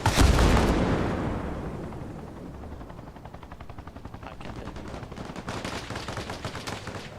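Rapid machine gun fire from a Huey helicopter in a video game, opening with a heavy blast and settling into a continuous fast rattle that persists at moderate loudness throughout.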